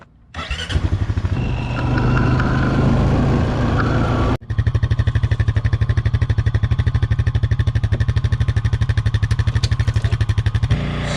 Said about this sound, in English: we need the four-wheeler so we can connect behind our small trailer